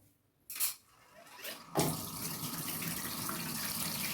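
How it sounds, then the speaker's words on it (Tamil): After a couple of short bumps, water gushes from a tap into a washing machine drum in a steady, close rushing stream that continues to the end. "இப்போ தண்ணி திறந்து விடலாம்"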